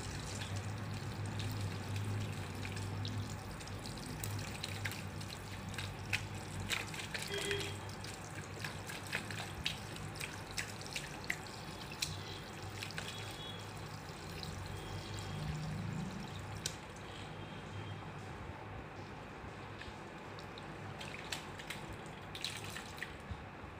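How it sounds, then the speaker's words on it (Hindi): Water runs steadily during a hair wash after global hair colouring, a constant soft splashing stream with occasional drips and small knocks, heard alone without talk. "अभी हेयर वॉश कर देंगे"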